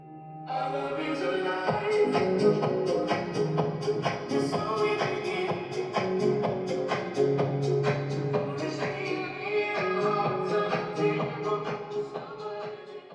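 Music plays steadily for about thirteen seconds through a homemade 12-volt audio amplifier on test, with full, continuous instrumentation and no talking.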